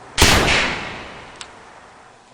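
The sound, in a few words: Weihrauch HW97K .22 air rifle fired by trigger solenoid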